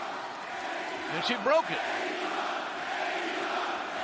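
Wrestling crowd at the first-ever women's title cage match at AEW St. Patrick's Day Slam 2022 roars steadily throughout, a dense sustained wash of cheering under a commentator's voice.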